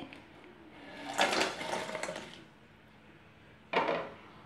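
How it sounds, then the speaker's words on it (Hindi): Fried taro (arbi) pieces tipped into an empty, hot kadhai on a gas stove make two separate clattering bursts. The first is longer and scraping, the second is short and sharp, with a quiet pause between them and no voices. "अब हम इसमें सारे अरबी डालेंगे"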